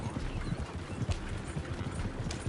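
Horses gallop in Red Dead Redemption 2, a fast steady clatter of hooves close by, filling the moment with no talking.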